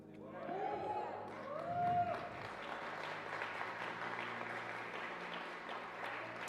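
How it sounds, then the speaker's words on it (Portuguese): A church congregation applauds at a worship service, steady dense clapping filling the room throughout, with a voice speaking over it near the start. "Você pode aplaudir, continua aplaudindo ao Senhor."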